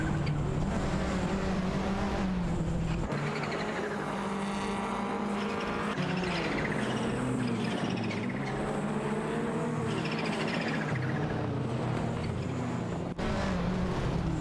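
Ferrari 288 GTO and Ford Sierra RS500 race cars in a racing video game roar continuously at close range, with engine pitch rising and falling through gear changes and a brief cut around three seconds.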